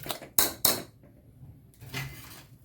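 Cooked lentils get mashed in a pressure cooker: two sharp metallic clanks of a utensil against the pot come close together, then quieter scraping and a duller knock near the end.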